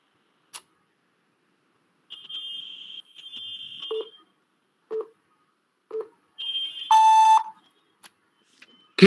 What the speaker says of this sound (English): Please start speaking after the beep sound.